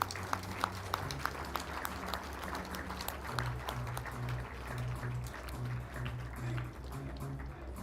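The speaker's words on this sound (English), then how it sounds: "Let's give a round of applause to this great team." Audience applause fills a room at an Isuzu 50th anniversary celebration as managers and general managers stand, steady dense clapping running the full length with a low hum of crowd beneath.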